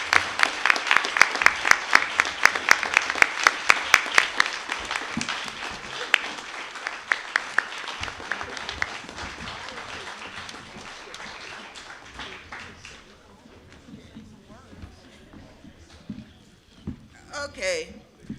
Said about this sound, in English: Please stand and give a round of applause with me for Mrs. Jones